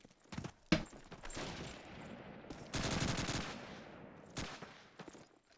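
Call of Duty 2 gunfire crackles in a rapid barrage, with sharp individual shots early on followed by dense bursts of automatic fire, moderately close and free of any talking.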